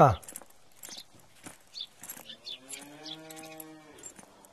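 Two buffaloes moo in a Tamil comedy scene, one drawn-out low call heard near the middle amid soft footsteps and scattered voices.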